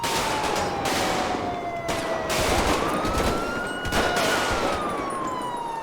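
Rapid bursts of gunfire crack through a FiveM (GTA V) police shootout involving a black Feltzer, loud and continuous across the whole stretch, with a siren wailing beneath the shots and no talk.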